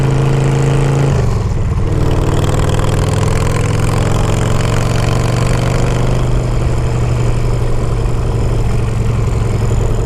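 A 2007 custom bobber motorcycle engine idles loud and close after being taken off choke, the note dropping early on and then settling into a steady, even low rumble with no talking.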